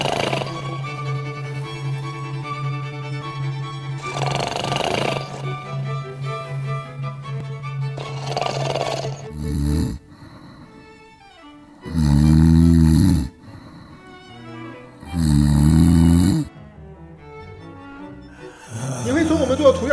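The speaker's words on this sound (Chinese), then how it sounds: "口腔内不同的软组织震动会发出不同的鼾声。" Human snoring during sleep, produced by vibrating soft tissue in the mouth and airway, comes as several loud, rough, rhythmic snores with pauses between them, after a stretch of droning tones at the start.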